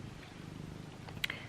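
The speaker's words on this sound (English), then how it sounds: "sorry if you can hear my cat purring." A house cat purrs close by, a soft continuous low rumble that runs steadily throughout, with a brief faint click near the end.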